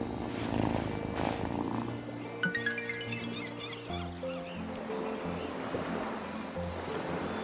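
Cat purring in the life-sim video game Wylde Flowers, a steady low rumble under ambient game music and environmental sounds, fairly loud and continuous.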